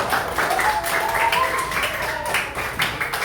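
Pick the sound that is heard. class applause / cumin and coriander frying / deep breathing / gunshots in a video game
class applause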